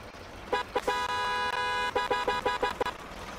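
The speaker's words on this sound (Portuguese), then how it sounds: "mas a buzina de carro" A truck's car-style horn in a truck driving game, a bright tonal honk sounding in a long blast then a rapid series of short staccato beeps, clear and alone.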